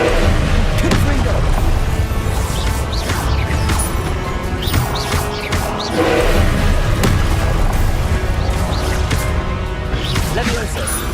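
Repeated Confringo spell explosions in the Hogwarts Legacy video game, loud crashing booms and thuds going off continuously amid dense game noise, with a voice talking throughout.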